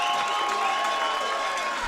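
Crowd at a U-18 European Championship qualifier baseball game between Switzerland and Ukraine cheers after a bases-clearing triple, a steady broad roar of voices that holds at an even level for the whole moment.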